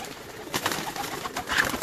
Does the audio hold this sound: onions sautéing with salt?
no